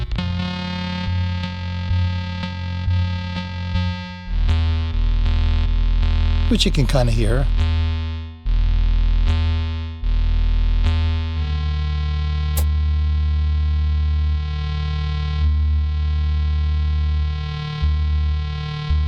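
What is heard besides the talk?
sub-harmonic synthesizer effect with envelope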